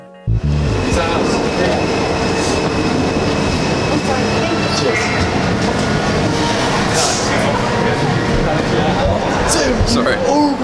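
Ride on a New York subway train: loud, continuous rumbling and rattling of the cars along the track, with metallic squeals and clatter, and people talking over the noise.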